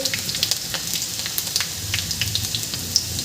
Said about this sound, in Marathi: इथे मी हा बारीक कट केलेला लसूण घालत आहे